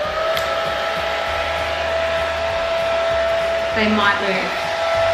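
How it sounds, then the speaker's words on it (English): Hair dryer running on its low setting, a steady whirring hum with a constant tone throughout, close and continuous while a person speaks briefly over it. "Trusty hair dryer."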